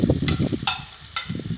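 Onion dropped into oil already heated in a frying pan, giving short bursts of sizzling hiss with brief gaps between them, close and moderately loud, with no talking.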